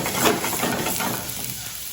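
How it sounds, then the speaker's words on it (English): Ginger and garlic dropped into hot oil for a sweet and sour chicken sauce: a brief close burst of frying hiss that settles into a softer steady sizzle. "Alright, our oil is ready for our sauce. So first I'm going to go in with my ginger and my garlic."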